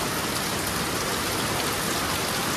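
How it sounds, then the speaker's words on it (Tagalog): Heavy rain pours steadily, a dense, continuous hiss of drops with no breaks and no voices. "Lakas ng ulan, oh."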